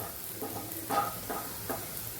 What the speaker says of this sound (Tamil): இனிமேல் தேங்காய் பூ போட்டுருவோம் தேங்காய் பூவும் கொஞ்சம் வதங்கணும்